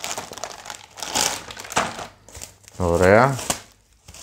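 Paper crinkles sharply as a partwork magazine issue for a Volkswagen Beetle model is opened, the rustling loud and close in bursts, with someone speaking briefly around it.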